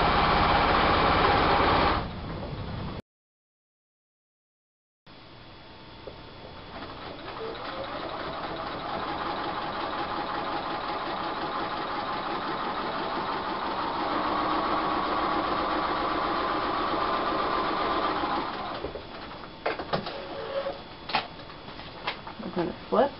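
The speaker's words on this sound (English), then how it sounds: "I'm going to stitch all the way across." Home sewing machine stitching straight across a paper-pieced quilt block, a steady mechanical whir running continuously for most of the stretch, stopping briefly early on, then ending in a few short bursts.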